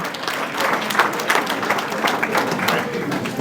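A room of guests at a speedway awards banquet claps for the track crews, a full, steady round of applause with a faint murmur underneath.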